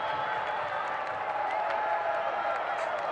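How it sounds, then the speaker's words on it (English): Stadium rugby crowd at a Scotland versus France match reacting to a denied try, with the Scottish supporters booing; a dense, steady roar of many voices fills the whole stretch, loud and continuous without a clear break. "the Scottish contingent in this crowd boo that decision"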